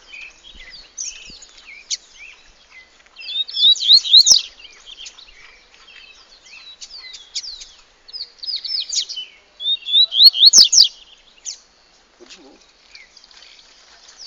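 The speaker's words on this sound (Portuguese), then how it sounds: "Ah, mas que passarinho valente é esse, Tami?" A small Brazilian forasteiro songbird, a passarinho kept for song competitions, sings bright, rapid chirping phrases in two louder bursts separated by quieter calls, with no talk over it.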